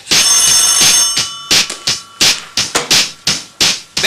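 An old telephone bell rings loudly in short repeated bursts, a long sustained ring followed by several choppy rings, close and alone with no talk over it.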